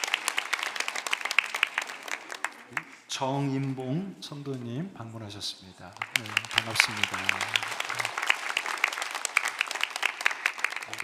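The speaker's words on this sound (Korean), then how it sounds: "우리 박수하겠습니다." Church congregation at a Sunday worship service claps to welcome visitors. Sustained applause opens the clip, an announcer's voice briefly interrupts it, and then the clapping resumes.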